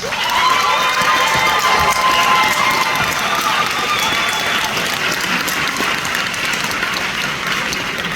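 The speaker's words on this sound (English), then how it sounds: "let's give them a round of applause" A graduation audience at a medical institute ceremony cheers and applauds loudly and steadily, a dense crowd roar with clapping and shouts that carries on without a break.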